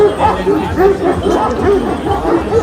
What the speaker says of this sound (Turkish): Köpekler.